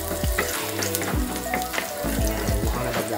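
Garlic fries in a pan with a loud, constant sizzle. Close, clattering pan knocks and utensil scrapes break through at irregular intervals, and no voices are heard.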